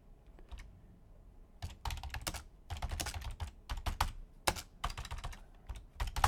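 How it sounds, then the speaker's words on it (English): Fingers type on a computer keyboard close by in uneven bursts of quick clicking keystrokes with short pauses, and no one speaks. "I can't type."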